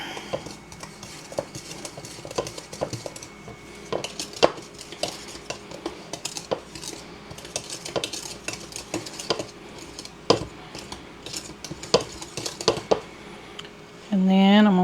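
A spoon stirs vanilla and pumpkin pie spice into a batter for pumpkin bread in a bowl, giving soft scraping swirls with irregular clinks against the bowl, close and fairly quiet.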